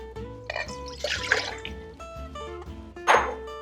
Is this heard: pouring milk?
yes